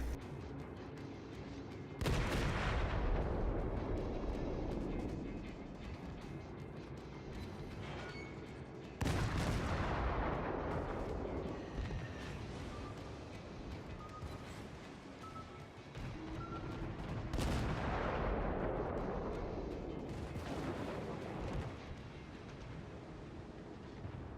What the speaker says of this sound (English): the lieutenant holds his fire until the smoke screen expires, and then begins to shoot at the enemy ship